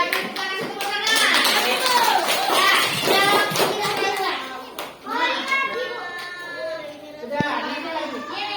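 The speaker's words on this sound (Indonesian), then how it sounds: "Yang kita kasih tepuk tangan." Primary schoolchildren clap in a classroom. Rhythmic hand claps mix with many children's voices calling out at close range, and a sharp tap near the end stands out.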